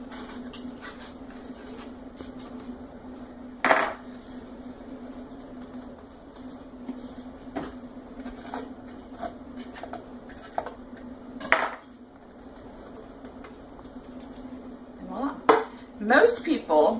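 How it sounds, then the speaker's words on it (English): A knife scrapes and taps around the edges of a cake pan, giving scattered sharp metallic clicks and clinks over a quiet hum, with a few louder knocks near the end. "I use a knife just to cut around the edges of my pan to make sure that the cake comes out"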